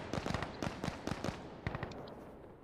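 Rapid bursts of gunfire in the shooter game Insurgency Sandstorm, several quick volleys of sharp cracks clustered in the first half, then sparser distant shots fading out.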